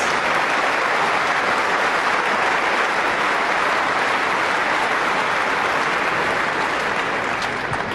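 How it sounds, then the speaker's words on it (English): A Wimbledon crowd at the 2015 women's first-round match between Kiki Bertens and Petra Kvitova gives loud, sustained applause, a dense, even roar of clapping lasting about eight seconds without pause. "Give the underdog a huge round of applause as she gets on the scoreboard"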